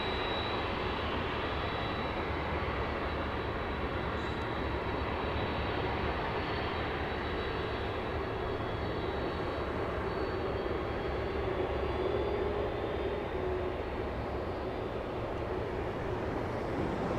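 An Airbus A220 airliner at Los Angeles International Airport at night roars with a steady, broadband jet-engine rumble and whine that holds loud and unbroken throughout, with no talking.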